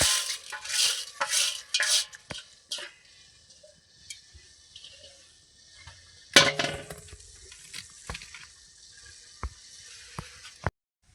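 Washed urad beans rattle and clatter into a pressure cooker of boiling water in a few quick bursts near the start. Faint clinks of utensils and metal follow in a quiet kitchen.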